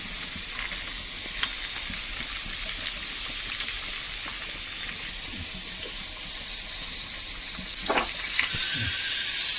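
Shallots and curry leaves frying in oil for tempering a fish-style curry, a steady close hiss and crackle throughout, with a few louder clinks and stirring bursts near the end and no talking.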